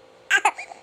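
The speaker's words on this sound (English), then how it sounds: "Oh, did you get the hiccups?" A baby's hiccups sound as two quick, close bursts followed by softer vocal traces, with no one speaking over them.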